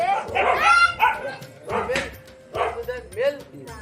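A dog barks in several sharp, close bursts with brief whimpering yips between them, over about four seconds. A person's voice is also heard faintly.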